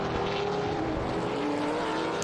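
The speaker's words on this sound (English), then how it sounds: "Ford Mustangs driving out there in the TA class" Ford Mustang race cars on Mayson chassis racing in the Trans Am TA class, a continuous loud engine roar with a rising pitch as cars pass, steady throughout.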